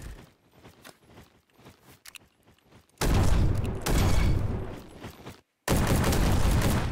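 Full-auto gunfire from a Roblox Bad Business first-person shooter match: quiet scattered footsteps and clicks give way to two long, loud, sustained bursts of rapid automatic fire, broken by a brief silent gap.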